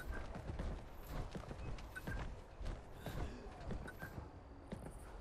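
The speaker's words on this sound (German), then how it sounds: "ich habe die Schritte eindeutig unter mir gehört" Footsteps sound faintly from below the player in Fallout 76, a steady series of soft thuds and creaks with a clip-clop rhythm, quiet and muffled as if from another floor.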